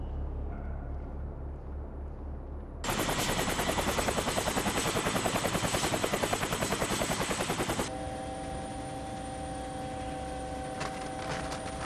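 A helicopter flies loud and steady in a military special-forces setting, its rotor chop hammering through a dense middle stretch before settling into a continuous engine drone that runs to the end.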